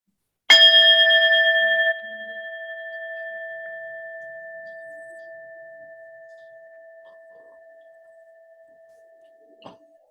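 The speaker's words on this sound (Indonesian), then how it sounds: "dengarkan bel lagi" A meditation bell is struck once, a clear bright strike followed by a long pure tone that fades slowly over several seconds, then a faint tap near the end.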